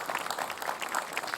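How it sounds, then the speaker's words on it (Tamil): An audience on a children's TV fun show claps steadily for a child's song, a dense, even patter of many hands with no voices over it. "ஒரு பெரிய கைத்தட்டல் கொடுக்கலாமே"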